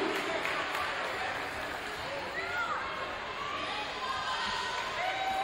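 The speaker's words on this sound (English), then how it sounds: "One more big round of applause." A high school gym crowd applauds four team captains at a varsity basketball trophy ceremony, steady and sustained clapping and murmur, with a voice speaking over it.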